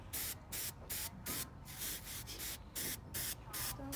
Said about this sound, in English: So I thought it would be a great idea to spray pink in my hair.